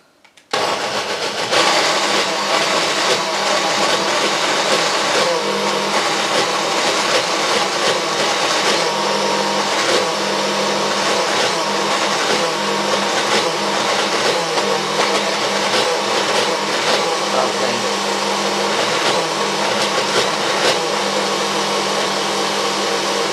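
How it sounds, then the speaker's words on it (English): A food processor blitzes potted beef with its cooking juices, running as one steady, loud whirring drone for the full length after a short start. "We'll just give it a little blitz"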